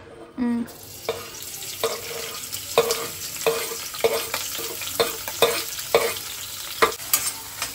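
Onions frying in a little oil for a chicken dish, a soft sizzle under repeated spatula scrapes and knocks against the pan at an irregular, brisk pace, close and fairly loud, no one speaking.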